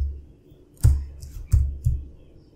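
Keys on a computer keyboard are struck in a few sharp, separate clicks and thumps close by, with a faint low hum between the strokes.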